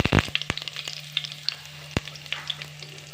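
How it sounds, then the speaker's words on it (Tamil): Curry leaves sizzle and spit in hot oil with popped mustard seeds, sharp pops and crackles scattered over a steady low hiss, close up. "கடுகு பொரிஞ்சிருச்சு. இப்போ நம்ம கருவேப்பிலை சேர்த்துக்கலாம்."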